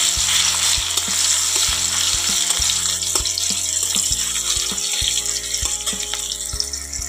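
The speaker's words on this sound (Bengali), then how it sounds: "এবারে ওটা একটু ভাজা হয়ে গেলে পেঁয়াজ কুচিটা দিয়ে দিলাম" Chopped onion fries in hot oil in a kadai with a loud, continuous sizzle close by, and stirring clinks and scrapes break through it repeatedly.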